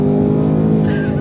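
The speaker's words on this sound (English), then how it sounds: "Some pops, some bangs come out of the exhaust." A 2024 Ford Mustang Dark Horse V8 roars loudly and steadily on a track, its dense exhaust drone filling the whole stretch, with a faint high tire squeal or whine appearing near the end.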